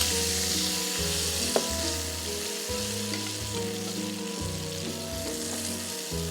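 Spices fry in oil in a pan for a fish-head and moong dal dish, a steady sizzle with a low pulsing hum beneath it and one small clink.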